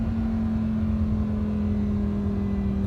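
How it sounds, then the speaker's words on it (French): A Lamborghini Huracán's V10 engine idles in Dubai, a steady close-up low drone with a smooth humming tone and no revving. "le truc de fou avec cette voiture, c'est le V10"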